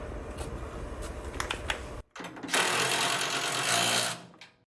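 A wrench tightens nylock bolts on the lower bracket of a Corghi 9830 BPT, giving a few short clicks and then a long, steady, buzzing ratchet run up close before it stops.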